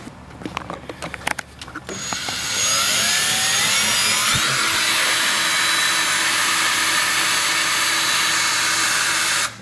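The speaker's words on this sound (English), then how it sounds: "And now we're just gonna drill some holes." A few clicks and handling sounds, then a loud, sustained high-pitched whine of a power drill boring holes into metal on a Mazda Miata during an oil catch can install, steady and close.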